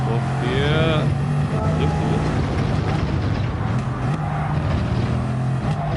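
A road vehicle's engine drones loudly and steadily, its pitch climbing and dropping as it shifts through second, third and fourth gear, with voices talking over it throughout.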